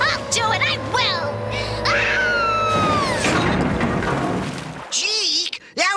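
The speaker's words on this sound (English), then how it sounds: "I'll scream. I'll do it." A person screams loudly at a Halloween party in a fake haunted house, with long rising and falling shrieks that carry over crashes and other voices, followed by a few more sharp cries.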